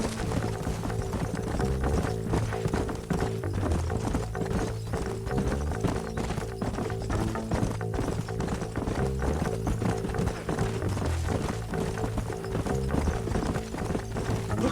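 Horses gallop in the western video game Red Dead Redemption, a dense, continuous drumming of hooves with a rapid, steady beat, close and loud over a full background bed.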